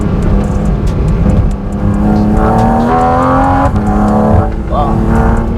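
Porsche GT4 RS flat-six engine on a short half-mile private race track, loud and close, holding a steady drone then rising in pitch as it accelerates out of a slow chicane, with talk over it.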